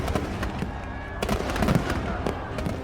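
Rapid crackling bursts of firecrackers going off one after another near an elephant in Khandwa, India, loud and dense, with a crowd murmuring underneath.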